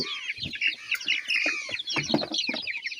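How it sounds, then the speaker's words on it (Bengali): Chickens clucking and calling in and around a large homemade wooden coop, several birds close by with overlapping, irregular clucks and squawks and no talking. "মুরগিরা বাইরে হয়ে চলে গেল।"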